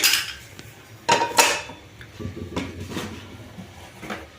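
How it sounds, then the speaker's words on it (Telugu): Metal kadai set down on a stove for deep-frying Sankranti karjakayalu: two loud close clanks of pot against metal, with lighter rattles and knocks of kitchenware before and after. "ముందుగా స్టవ్ వెలిగించుకొని బాండి పెట్టుకోవాలి"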